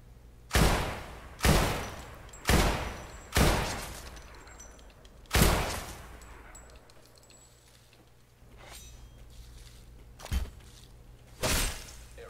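Gunfire in the Roblox game Decaying Winter, a series of about eight loud, sharp shots spaced roughly a second apart, each ringing out briefly, with a pause midway and two final shots.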